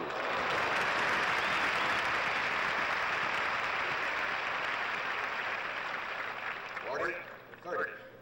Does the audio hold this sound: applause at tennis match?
yes